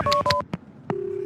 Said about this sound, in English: Can I use your phone? I need to make a call.